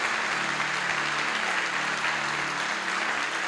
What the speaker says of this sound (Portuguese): Se é para aplaudir o Senhor, aplaude para valer.